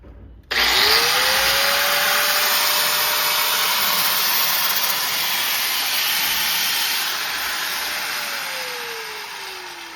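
A power grinder spins up and runs steadily while opening a toe abscess on a cattle hoof, a loud, continuous high whine that slowly winds down toward the end.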